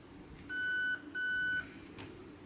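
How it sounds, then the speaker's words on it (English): An AK-style airsoft rifle's MOSFET gives two long, steady electronic beeps with a short gap between them while saving a setting, clear and alone against faint background hiss. "hold down the trigger for 2 seconds, approximately, and then it's gonna do a long beep"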